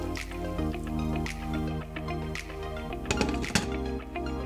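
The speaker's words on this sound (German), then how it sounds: "gebt einfach einen Schuss Wasser dazu." A splash of water goes into a pot of vegetable curry simmering over low heat. Close, wet dripping and squishing sounds mix with soft bubbling and a few sharper liquid plops.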